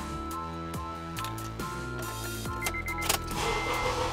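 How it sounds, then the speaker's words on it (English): A car engine idles during a battery and alternator test, giving a steady, even hum close by with a few light clicks and rattles on top. "So I've got our vehicle running in idle."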